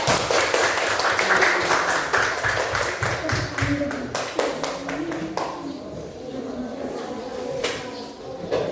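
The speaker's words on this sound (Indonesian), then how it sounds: "Jadi tepuk tangan untuk kelompok 3" Applause in a classroom for a student group, many hands clapping in a brisk, loud burst that thins out toward the end with scattered claps, with talk mixed in.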